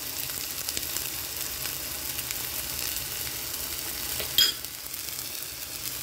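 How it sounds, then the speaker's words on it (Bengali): Chopped vegetables fry steadily in a hot pan, a continuous close sizzle, with a short sharp hiss flaring up as chopped green chilies are tipped in before settling back to an even crackle. "সবজিগুলো ভাজা হয়ে গেছে, এবার আমি দিয়ে দেবো কেটে রাখা কাঁচা লঙ্কা"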